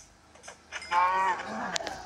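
A Minecraft cow lets out one close, drawn-out moo that bends downward, surrounded by soft game clicks and footsteps.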